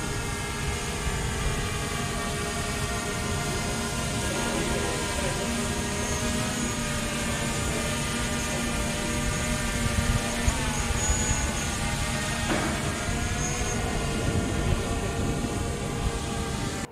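A rescue drone's propellers give off a steady, loud, continuous whir with a droning tonal hum that stays constant throughout, with no voices.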